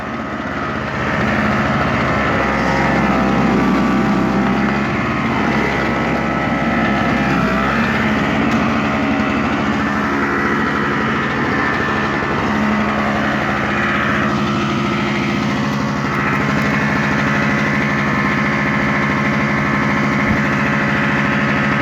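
A Snapper SX5200E single-stage two-cycle snowblower runs steadily for over twenty seconds, a loud, close, buzzing engine drone with slight shifts in pitch and load.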